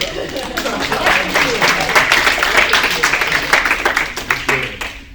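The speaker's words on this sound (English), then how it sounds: "Round of applause." Audience at a kenpo karate black belt promotion ceremony claps steadily for about five seconds, a dense, sustained applause from a nearby crowd with voices mixed underneath.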